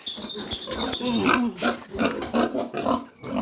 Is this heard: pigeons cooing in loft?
no